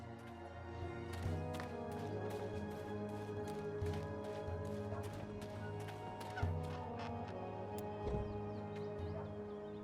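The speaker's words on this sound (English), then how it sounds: "Hold still, you filthy little fowl." A bird squawks and honks in the video game Dreamfall Chapters, with scattered sharp calls and clicks over a steady, droning musical background that keeps going the whole time.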